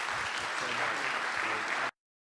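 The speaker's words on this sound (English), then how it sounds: "One more round of applause for Dr." An audience at a Library of Congress talk with Neil deGrasse Tyson gives a dense, steady round of applause that stays loud for about two seconds and then cuts off abruptly.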